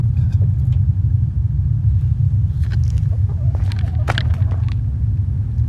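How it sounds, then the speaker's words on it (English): A SpaceX rocket engine test rumbles from far away as a continuous deep, low roar. It stays steady and unbroken, with faint scattered noises closer by. "That's SpaceX testing rockets."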